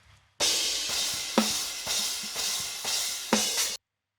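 Cymbals from a prog drum kit play unequalized, a bright, dense wash of ride and crash with a few sharper hits standing out, loud and alone before cutting off.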